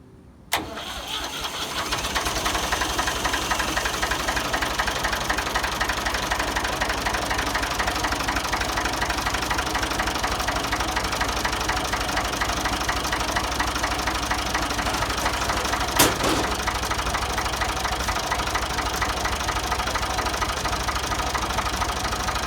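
A Ford 2000 tractor engine, started cold, cranks and catches quickly, then settles into a steady, loud idle with a rhythmic knocking chug that continues throughout, with one brief click partway.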